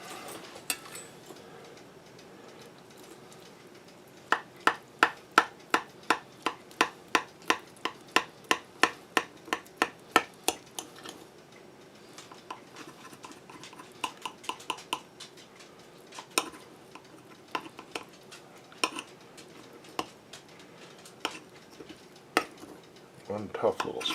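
A knife scrapes and taps against a pan while cutting through pork chops, making a long run of sharp, regular metallic clicks that thin out into scattered taps over a quiet kitchen background.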